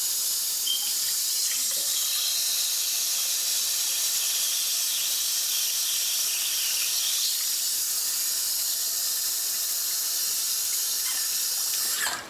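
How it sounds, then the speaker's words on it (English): Tap water runs steadily into a pot of potatoes in a home kitchen, a close, continuous hissing rush that holds even throughout, with no voices. "But I'm gonna add water now again."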